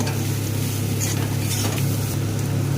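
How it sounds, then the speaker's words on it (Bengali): Steady sizzling of pumpkin and bitter gourd frying in a pan, with occasional soft scrapes of stirring, close and moderately loud, no voices. "এবার ভালো করে এটাকে ভেজে নেব"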